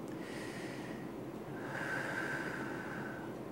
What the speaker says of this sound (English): Here's the breath for singing that we should use.